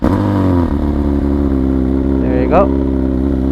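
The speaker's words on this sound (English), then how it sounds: "I'm going to do a cold start on the bike." A motorcycle engine idles loudly and close on a cold morning, a steady low rumble with one brief rev near the end, while someone speaks a few words over it.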